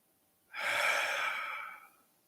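A single long, breathy exhale during guided meditation, close and soft, rising suddenly and tapering over about a second and a half in a quiet room.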